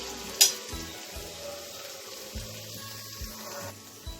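Soft continuous sizzling of potatoes and ginger frying in a pan, with a sharp clink near the start and faint stirring scrapes throughout.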